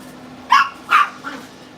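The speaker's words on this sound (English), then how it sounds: "my lady friend's coming and the dogs will lose their shit" Two sharp dog barks close by, followed by a softer third yelp, over a quiet background hum.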